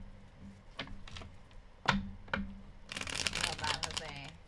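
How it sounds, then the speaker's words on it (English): Tarot cards are shuffled by hand in short riffling bursts and soft taps, ending in a longer dense flurry of card noise, close and fairly quiet. "Last shuffle."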